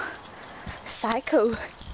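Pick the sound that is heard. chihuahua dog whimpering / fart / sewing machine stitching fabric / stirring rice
chihuahua dog whimpering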